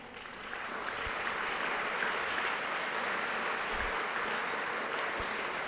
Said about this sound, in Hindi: ताली वो बजाते हैं जिनके हाथों में दम हो।